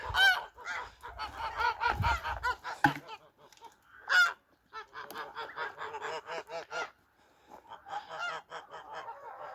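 Domestic ducks and drakes in a farmyard call in loud, close bursts of honking quacks, several birds overlapping in rapid runs with short pauses between.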